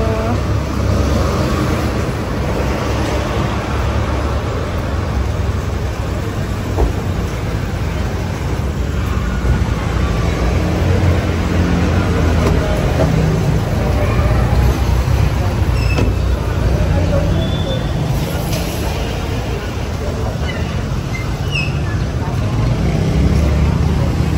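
Busy street traffic in Baguio, with jeepneys and taxis passing, forms a dense, constant rumble of engines and road noise that continues without a break.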